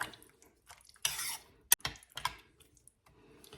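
Chopped onion stirred into pheasant in creamy mushroom sauce in a crockpot: a few close spoon scrapes and wet sloshes, with a sharp click of utensil against the pot, separated by quiet gaps.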